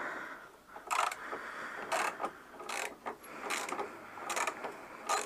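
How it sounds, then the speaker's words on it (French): A 16 mm wrench ratchets and clicks on a cylinder head nut of a Citroën 2CV, a series of quiet, regular mechanical clicks and scrapes close by, with no talking. "J'ai mis une clé de 16."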